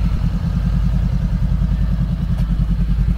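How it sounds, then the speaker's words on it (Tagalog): Motorcycle engine idling while warming up on a morning ride, a steady close low chugging pulse with even rhythm, loud and uninterrupted by talk. "Nagpapainit lang kami ng motor."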